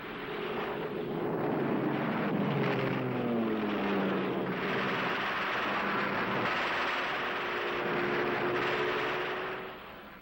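World War II Allied fighter-bomber aircraft flying over Normandy, a loud sustained engine roar with sweeping shifts in pitch as the planes pass, rising then fading over about ten seconds.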